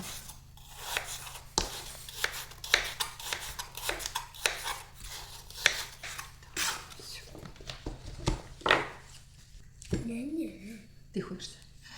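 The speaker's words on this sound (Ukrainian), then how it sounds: "тепер просто на отакі от дольки нарізаю" Soft knife cuts and taps on a board repeat irregularly as apples are sliced into wedges, close and quiet, with brief clinks of utensils.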